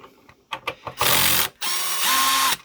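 A DeWalt DCF601 cordless screwdriver clicks a few times and then whirs in two loud, steady bursts with a brief pause between them, close up and with no talking.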